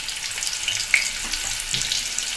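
Sliced onion hisses in hot oil, two ladles' worth, at the start of a val bean vegetable dish. A steady, close frying sizzle runs throughout, with a few small crackles and pops.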